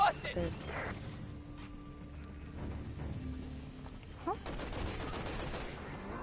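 Gunfire from Resident Evil 6, played in co-op, with repeated shots in bursts through the clip. It sits among game sounds and players talking.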